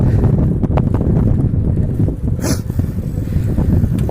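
Cool wind buffets the microphone during an outdoor ride on a Hercules Dynamite ZX bicycle, a loud, steady low rumble with gusty swells and a brief rustle, no voices.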